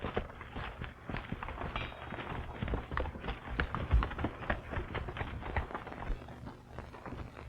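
Horse hooves clop in an irregular, busy rhythm on hard ground at moderate distance, continuing steadily for several seconds without speech.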